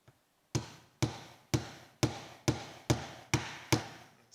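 A tripod part being knocked into place with a screwdriver: eight sharp, evenly spaced taps about half a second apart, each ringing briefly before the next, close and clear with no talking.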